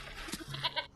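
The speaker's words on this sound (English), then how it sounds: "The goat" A goat bleats in the Sherlock Holmes: Chapter One video game, a short wavering cry with a few quick pulses, close and clear.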